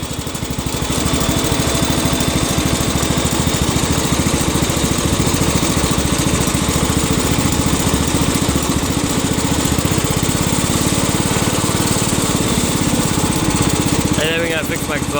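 A 1967 Cub Cadet 102 lawn tractor engine, just cold-started and with a faulty exhaust, runs loud and close in a steady, rapid chugging drone that holds even from start to finish.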